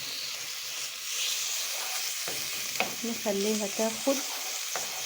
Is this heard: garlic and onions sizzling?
yes